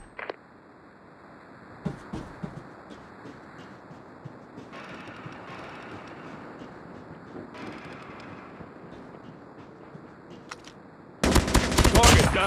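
Automated sentry gun in the Call of Duty Mobile zombie mode firing sustained bursts of gunfire amid busy game sound, with a dense, loud volley near the end; a voice speaks briefly.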